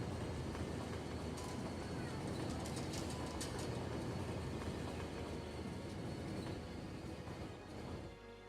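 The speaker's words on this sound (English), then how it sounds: "Here's a train leaving that station there, look. Whizzing through." A train in the city-building video game Cities: Skylines runs straight through a station without stopping, a continuous rushing rail rumble with faint clatter, steady and moderately loud before fading at the end.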